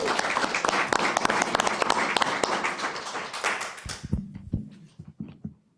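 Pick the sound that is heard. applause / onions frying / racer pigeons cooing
applause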